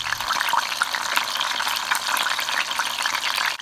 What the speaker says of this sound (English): let's just add the lamb to the hot oil and let's sear it